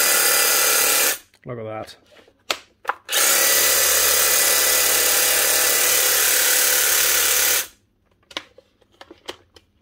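A Makita DUH502 18V cordless hedge trimmer, under warranty repair for a fault, runs in two loud bursts: a short one, then a sustained steady buzz of several seconds before cutting off, with someone speaking briefly between.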